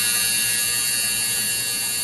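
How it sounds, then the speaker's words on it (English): A clothes dryer running indoors: a steady, continuous mechanical hum and whir, loud and unchanging throughout, with no talk. "It's the dryer."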